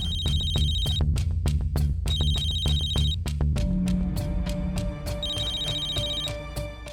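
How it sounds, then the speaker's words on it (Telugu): A telephone rings at night in a Telugu TV serial scene, with a loud electronic ringtone in repeated bursts of high beeping tones over a low hum, then shifts to a rising musical cue. "ఎంత రాత్రిపూట ఫోన్ ఎవరు చేస్తున్నారు?"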